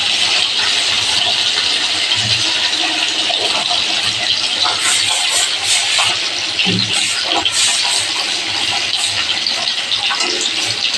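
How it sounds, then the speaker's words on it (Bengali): Fish sizzle and spit steadily in hot oil in a pan, a dense continuous crackle with small bursts throughout, close and loud, with no talk. "মাছগুলো লাল লাল করে ভেজে নিয়েছি"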